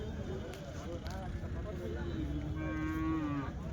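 Small calf at the Punganur weekly cattle market lowing in a long drawn-out moo, close and clear, over the busy murmur of a crowd talking around it.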